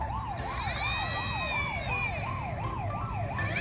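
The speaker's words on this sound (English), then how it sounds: "If you hear a police car honk and flash its sirens, that means you should get out of the way." A toy police car siren wails in a fast, regular up-and-down pattern, steady and fairly faint, with a faint high whine behind it.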